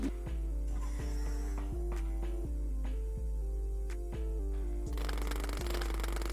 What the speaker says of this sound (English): sets to work on it with her jackhammer